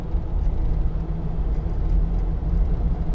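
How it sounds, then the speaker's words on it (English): 2013 Land Rover Defender 90 2.2 TD hard top with cross-contact tyres, driving on a rough road: a continuous deep rumble of tyre and road noise heard from inside the cab, steady and fairly loud without pause. "you get a bit of tyre noise. It's got these cross contact tyres on, but it's not too intrusive."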